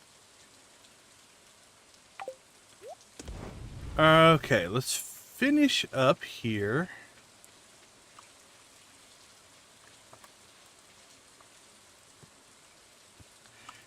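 Soft, steady rain patters through a Stardew Valley farm scene, a faint continuous hiss that runs throughout while a person speaks briefly in the middle.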